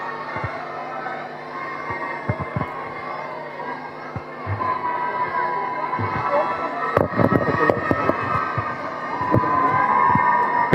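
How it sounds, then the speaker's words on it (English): Children clap and cheer for a team at a pro tennis league semifinal, a dense, loud crowd roar with sharp claps that swells toward the end. "तालियां बजाइए, शोर मचाइए बच्चों."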